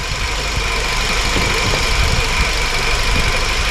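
A 2008 Ford Focus engine idles rough with injector 1 disconnected, a steady close shaking rumble with a faint uneven knock running throughout, no voices.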